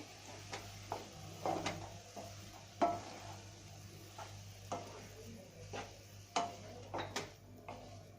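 Grated coconut being stirred into a chili filling in a pan, with soft scraping and light clinks of a spoon at irregular intervals, quiet and close, with no talking.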